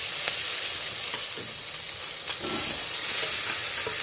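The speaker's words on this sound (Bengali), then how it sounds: "মাছ ভাজা তেলের মধ্যে কটা বেগুন ভেজে নেব।" Eggplant (brinjal) slices fry in oil already used for frying fish, giving a loud, continuous sizzle with scattered pops and stirring clicks throughout; nobody speaks.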